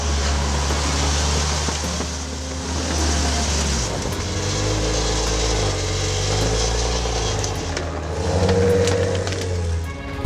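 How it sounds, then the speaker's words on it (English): A 2017 Maserati Levante SUV accelerates hard with a throaty exhaust note, the engine pitch rising and dipping through a downshift under sustained throttle, loud and close without talk. "Once I push my foot down really hard, that change down, that throttle, that throaty sound is absolutely beautiful out the back of the car."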